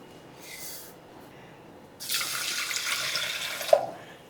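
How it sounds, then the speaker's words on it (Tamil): Water runs from a tap for about two seconds, a steady hissing stream into a vessel holding kodo millet for washing, after a brief softer splash, with no talking. "தண்ணி ஊற்றி 2 தடவை வாஷ் பண்ணி எடுத்துக்கலாங்க."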